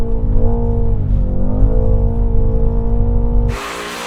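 A Mercedes-AMG in rear-wheel-drive drift mode drones loudly with a deep, harmonic engine note that dips and climbs again before cutting off into a brief hiss of tyre or wind noise.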